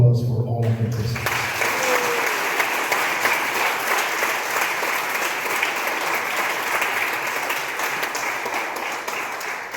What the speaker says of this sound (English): let's hear one round of applause for all of the contestants.